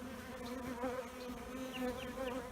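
Honey bees buzz in a steady, continuous drone with a strong low hum, close and even, while a few higher buzzing swoops pass by during the sampling of bees for varroa mites.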